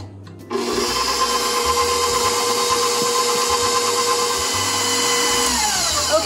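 An electric stand mixer kneads bread dough in a bowl, its motor switching on abruptly with a loud, steady whine and rhythmic thumping of dough that continues unbroken without speech.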